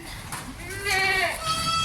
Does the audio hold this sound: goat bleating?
yes